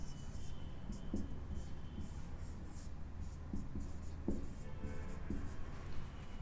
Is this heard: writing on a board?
yes